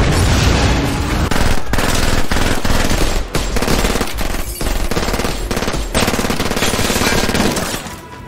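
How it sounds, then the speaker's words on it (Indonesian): Heavy film gunfire as a gang shoots at SWAT police: loud, dense automatic bursts rattle almost continuously, with a few short gaps and sharp single shots between them. "geng Wei Hong pun langsung menembaki para polisi"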